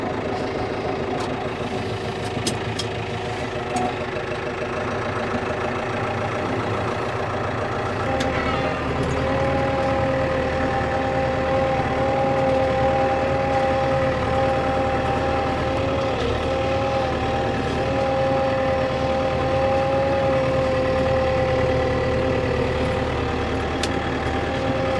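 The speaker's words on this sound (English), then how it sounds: "Give the tractor a chance to warm up a little bit before I engage any PTO." A tractor engine idles steadily while warming up before the PTO is engaged, a continuous close rumble with a faint whining tone running through the middle, with no talk over it.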